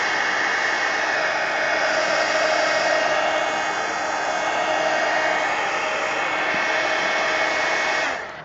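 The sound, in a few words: hair dryer drying collage pieces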